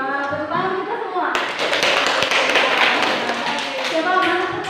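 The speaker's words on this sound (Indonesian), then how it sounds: "Masya Allah, tepuk tangan kita semua." A classroom of children and their teacher clap hands together in a quick, lively burst that begins after a moment of talk, with voices continuing over and after the clapping.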